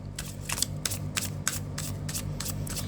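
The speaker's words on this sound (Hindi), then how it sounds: "Last shuffle." Tarot cards are shuffled by hand in a series of about eight quick, crisp riffling bursts, close up over a low steady background hum.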